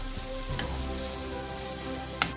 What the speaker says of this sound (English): I am going to add the onions which are cubed and fry this for 3 to 4 minutes